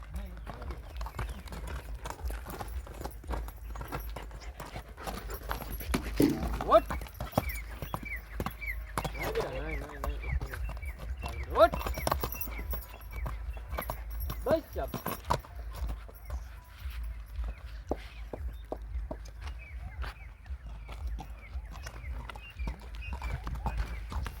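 A mare's hooves clip-clop steadily on a visit to a horse owner's stable, the light rhythmic beats running throughout at modest volume beneath people talking, with some jangling tack.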